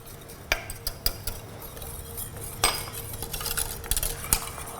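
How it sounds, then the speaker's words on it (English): Strawberry puree with sugar and agar-agar is whisked in a pot, giving soft continuous scraping with irregular sharp metallic clinks of the whisk against the pot's sides, close and fairly quiet. "I whisk it until there's no more lumps"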